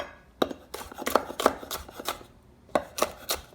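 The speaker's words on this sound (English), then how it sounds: "Just a rough chop." Knife roughly chopping chili peppers for curry paste on a board, a handful of crisp, close cuts in irregular bursts with short pauses between them.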